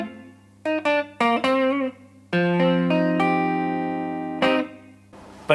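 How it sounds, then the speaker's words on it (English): An electric guitar played through a Flint reverb pedal rings out in a few plucked notes and a sustained chord, each note blooming into a warm, smooth reverb tail that fades slowly. "I can demonstrate that all the reverb is coming from the Flint"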